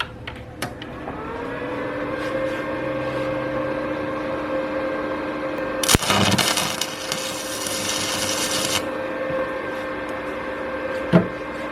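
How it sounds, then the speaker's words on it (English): A single welding tack on a replacement Z-axis leadscrew crackles and sizzles in a loud burst lasting about three seconds. A sharp pop follows later as slag snaps off the cooling weld, all over a steady machine hum. "I'm just going to put one tack in here before I go over"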